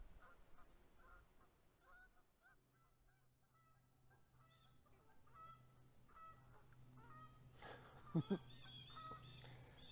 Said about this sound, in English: There's like 50 geese up on this island right here.